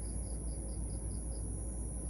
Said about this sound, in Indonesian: berhenti suara jangkrik dan kodoknya